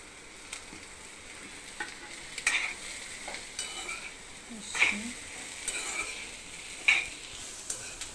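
Okra frying in a pan with gram flour sprinkled over, stirred with a spatula that clinks and scrapes now and then over a steady soft sizzle, fairly quiet and close.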